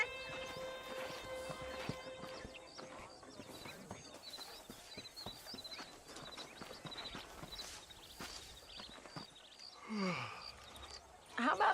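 Horse hooves clip-clopping at a walk in Red Dead Redemption, soft rhythmic steps alongside a steady tone, ending with a neigh-like bray and louder movement.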